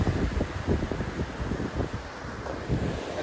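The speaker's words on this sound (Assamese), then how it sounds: "বহুত ধুনীয়া বতাহ মাৰি আছে" Strong wind buffets the microphone at an evening bridge viewpoint, a continuous roaring rumble with gusty low thumps and no other clear sounds.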